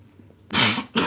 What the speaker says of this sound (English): It seems I can't smoke or laugh now without coughing.